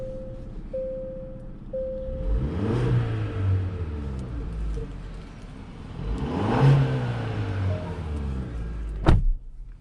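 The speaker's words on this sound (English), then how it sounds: "let's go ahead and take this 2021 Genesis GV80 on a test drive and see how it does" A 2021 Genesis GV80 2.5T SUV on a road test drive, its engine rising in pitch twice as it accelerates through the gears, with a steady cabin hum and a sharp click near the end.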